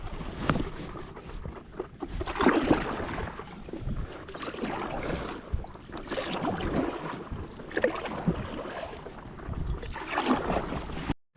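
A paddle board paddled on the River Blackwater, rhythmic paddle strokes and water sloshing every few seconds under steady wind buffeting on the microphone, close and continuous, no talk.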